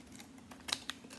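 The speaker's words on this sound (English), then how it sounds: "I'm gonna take my scissors and just" A couple of quick, crisp snips of scissors cutting paper scraps close by, faint and sharp, with a quiet room behind them.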